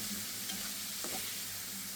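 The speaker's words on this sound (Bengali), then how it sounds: "একটু সব কিছু একত্রে ভেজে নিচ্ছি।" Spices and churi dried fish frying together in a pan for a vegetable chorchori, giving a steady close sizzle with faint stirring scrapes throughout.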